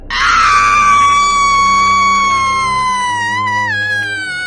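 A woman's long, piercing horror-style scream, loud and close, sliding slowly downward in pitch and fading slightly over about four seconds, alone with no talk.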